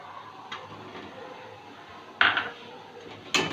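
Eggs are dropped into a pan of potatoes and spices, giving a faint tap followed by two louder clattering knocks of metal cookware, with a low kitchen hum between them.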